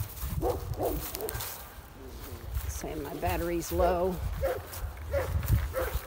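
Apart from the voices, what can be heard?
dogs barking at feeding time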